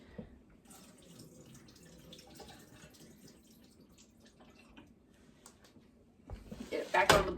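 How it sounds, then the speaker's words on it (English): Quiet room sound and soft movement, then a loud rush of water drained from a pan of beef roast pouring into a sink near the end, splashing strongly for about a second. "I'm going to drain the water off of it."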